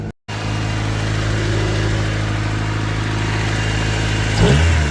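A Honda Civic wagon with a hole in its muffler runs with a loud, raspy, steady engine drone close by, briefly cutting out at the start and swelling slightly near the end.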